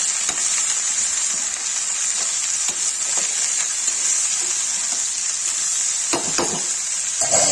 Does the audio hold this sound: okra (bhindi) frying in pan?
yes